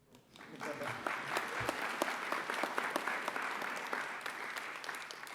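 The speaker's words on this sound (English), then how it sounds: "You can clap if you'd like." Audience at an academy graduation ceremony claps as a graduate's name is called: moderate, steady applause builds quickly and holds evenly, with individual claps standing out in a large room.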